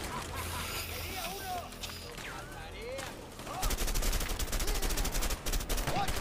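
Rapid gunshots crackle in A Way Out, a loud dense burst of gunfire erupting in the second half after busier game sounds and voices.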